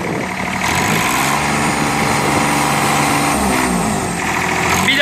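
Tigre 4000 ride-on toy vehicle running steadily close by, a continuous electric motor whine with a faint buzzy hum throughout, rising slightly near the end.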